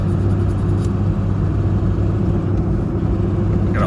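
Memorial Day road traffic merging into the Monterey Peninsula, a steady, dense rumble of car engines rolling past close by, with no break and no voices over it.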